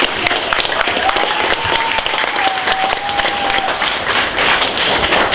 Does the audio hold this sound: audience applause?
yes